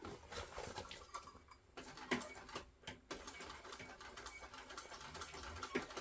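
A sewing machine stitches through backpack fabric up close in a quiet room, giving a rapid rattling patter that runs steadily with short pauses and a few louder clicks.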